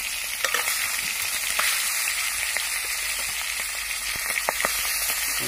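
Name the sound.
fish pieces frying in a small wok on a boat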